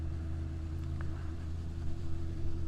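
A KTM 890 Adventure motorcycle being ridden on a road trip, its engine droning steadily with a low hum layered under wind rush, fairly loud and continuous, swelling slightly toward the end.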